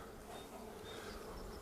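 Honeybees drone steadily around open hives during a spring colony inspection, a dense continuous buzz filling the air close by with no voices.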